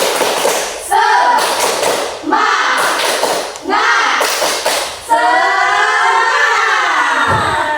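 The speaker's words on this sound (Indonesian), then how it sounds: "Oke, tepuk semangat." A classroom of students performs the rhythmic 'tepuk semangat' clapping chant, loud group voices shouting in drawn-out bursts, each punctuated by sharp collective claps, ending in a long sustained shout.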